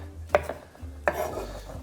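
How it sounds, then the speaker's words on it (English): A knife chops baby spinach on a cutting board in two sharp, distinct strikes about three-quarters of a second apart, close and fairly quiet, with no talking. "I'm just going to finely chop it up."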